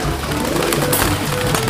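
Pigeons or doves coo steadily and loudly at an Indonesian bird farm, a dense continuous chorus of close birds with no talk.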